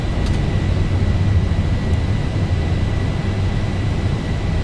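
Engine roar of a Boeing 737-800 climbing after takeoff in the X-Plane 11 flight simulator, a loud, steady, broad jet rumble with a faint high whine, continuous throughout.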